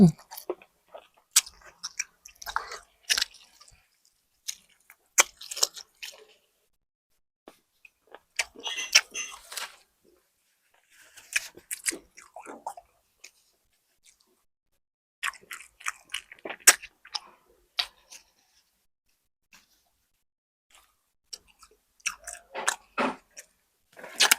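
Close, wet chewing and crunchy biting of grilled pork ribs, arriving in irregular bursts separated by brief silences, with no talking.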